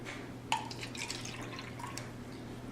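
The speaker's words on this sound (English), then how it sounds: "so here's my water. I'm gonna put that in there to the fill line" Distilled water poured into a laboratory beaker up to the fill line, heard as a steady faint trickle with a few small drips and splashes, close and quiet with no talking.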